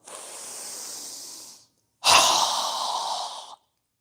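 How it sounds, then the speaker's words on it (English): A person takes two forceful, breathy exhales during yoga practice: a long, steady rush of air, a brief pause, then a sharper, louder burst that fades out, all heard close up. "exhale with a strong breath as we lower our arms and hands down"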